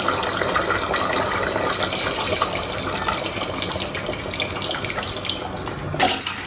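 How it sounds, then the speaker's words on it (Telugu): Tamarind water being poured into a pot of mutton paya: a steady broadband splashing pour that runs continuously and fairly loud, close by, with no talking. "చింతపండు పులుసుని అనేది వేసుకున్నాను."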